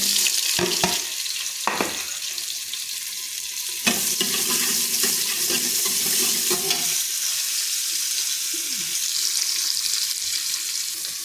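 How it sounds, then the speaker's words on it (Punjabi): Onion sizzles and fries steadily in hot oil with cumin, a continuous close hiss with a few stirring clatters early on and no talking. "ਲੋ ਜੀ ਆਪਾਂ ਇਹਦੇ ਵਿੱਚ ਪਿਆਜ਼ ਪਾ ਦਨੇ"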